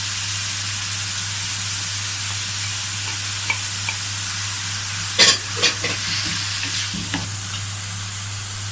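Onion and a piece of fat stirred and sautéed in a pan with salt and spices, a steady sizzle under a constant hum, with a few sharp scraping stirs near the middle.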